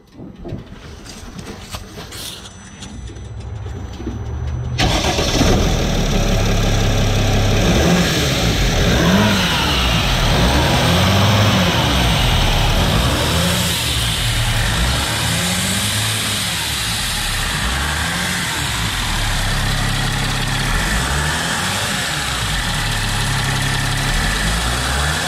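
A turbocharged car with a low turbo boost fault idles, then its engine revs in repeated rises and falls, loud and close, with a persistent mechanical whine over the engine note.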